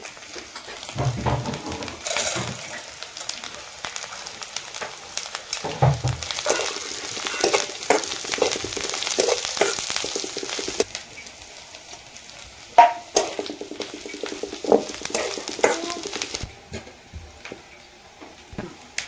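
Peanuts fry with tender chickpea leaf greens in a pan, giving a continuous close sizzle broken by stirring scrapes and clinks against the pan throughout.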